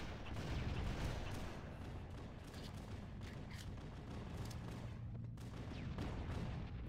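Rocket launcher blasts and gunfire in a Halo 4v4 match on the Prisoner map, a dense continuous roar of booms and bursts with no clear gaps, heard at moderate loudness.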